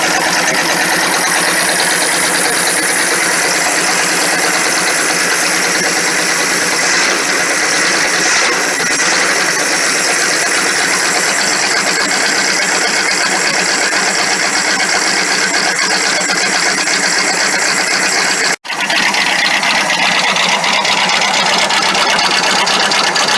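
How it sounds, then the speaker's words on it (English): A 1960 Cadillac rat rod engine idles loudly and steadily through a straight exhaust with a raw, unmuffled rumble, continuous and close, with a brief dropout near the end. "That's a rat rod engine if I ever heard one."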